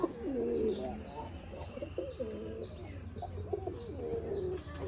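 Pigeons at a pigeon farm coo steadily and close by, their low, rolling calls overlapping throughout with a few faint chirps mixed in.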